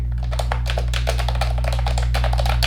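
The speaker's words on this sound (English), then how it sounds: "how fucking loud this keyboard is" Rapid, loud clacking of a computer keyboard, keys struck in a fast continuous rhythm over a low steady hum.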